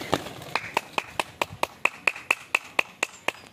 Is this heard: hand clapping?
yes